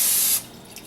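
Cooking oil spray hisses onto a pan in one steady burst of just under half a second, then cuts off, leaving a quiet room.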